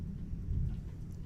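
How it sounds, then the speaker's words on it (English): Low, continuous rumble of thunder from a building storm, steady and fairly loud throughout with faint rain-like hiss above, no voices. "As I'm speaking, you may hear some thunder in the background."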